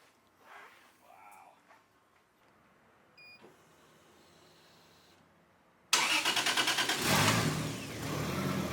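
A 500 hp 2JZ engine swapped into a Nissan S14 is quiet at first with faint handling noises, then cranks and fires into a loud, steady idle that runs through to the end.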